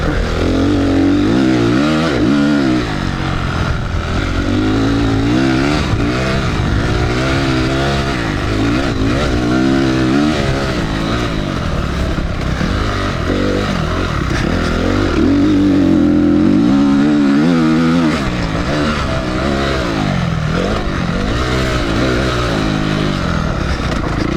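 Honda CRF 250R dirt bike ridden hard: a loud, close engine roar that climbs and drops continuously as the rider works the throttle through gear changes, with no pause.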